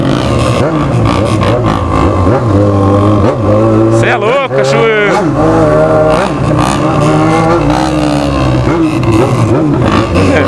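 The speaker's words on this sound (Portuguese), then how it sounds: "Maninho da XR acelerando ali." A Honda XR motorcycle revs on a city street, its engine note rising and falling in a few sharp pulls mixed with steady traffic rumble, while someone talks over it.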